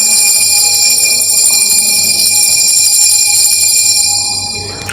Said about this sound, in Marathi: बेल वाजली, 7:45 वाजून गेले.